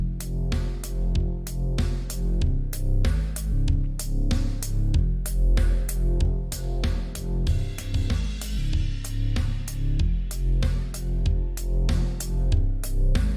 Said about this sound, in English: here's the balance we got with that processing on the bass and our drums so far